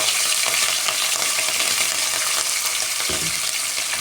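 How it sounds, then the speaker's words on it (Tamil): Mustard seeds and chana dal fry in hot oil for a bitter gourd stir-fry, making a dense, continuous crackling sizzle close by with faint stirring throughout. "கடுகு போட்டுக்கிட்டே எண்ணெய் காஞ்சதையும் கடலைப்பருப்பு போட்டுக்கணும்"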